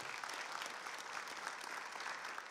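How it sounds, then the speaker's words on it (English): A church congregation applauds its Go team, steady broadband clapping from a large crowd filling the whole span at moderate loudness. "Let's give a round of applause for our Go team."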